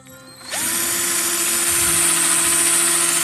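A chainsaw chain is sharpened with a spinning grinding wheel stone: a steady high-pitched grinding whine starts abruptly after a quiet lead-in and holds loud and continuous, with no talking.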